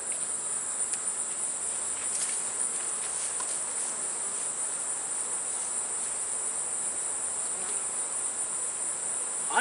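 Honeybees swarm around a hive box in the sun, a steady, faint insect drone under a constant high whine, with occasional individual buzzes passing close.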